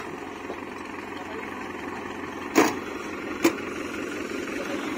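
A Farmtrac 6055 tractor runs with a steady, low engine drone after starting and engaging reverse gear, broken by two short knocks midway.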